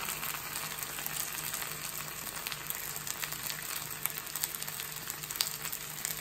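Oil poured over breakfast pizza toppings sets off a steady, even sizzle like frying, holding at a moderate level without pause and with no talking.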